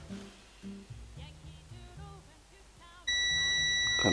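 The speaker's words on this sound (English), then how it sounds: "It's showing continuity when it's up, like that." A multimeter's continuity beep sounds while checking the switch wiring on a Mega Double Bubble Blower toy: a loud, steady electronic tone cuts in about three quarters through and holds to the end, after quiet murmuring and handling.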